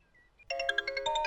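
A phone ringtone starts after a brief quiet moment, a close, loud electronic melody of bright repeated tones that rings steadily on to the end without any voice over it.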